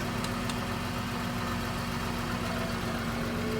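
A farm tractor engine idles steadily close by, a constant low mechanical rumble with a faint whine and no talk, the tractor fitted with a failing alternator and burnt belts during corn harvest season.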